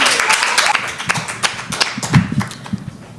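Audience at a comedy poetry show in Mumbai clapping for a performer, a scattered burst of claps that thins out and fades over a few seconds, with some voices in the room.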